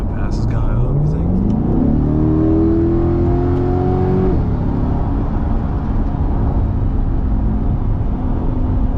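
A C8 Corvette accelerates hard in Tampa to pass another car, engine note rising steeply in pitch through the gears with a loud, close revving surge, then settling into a steady cruising rumble.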